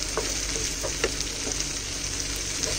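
Ginger garlic paste frying in a pan over a medium-to-high flame makes a dense, even hiss, with faint spatula scrapes now and then.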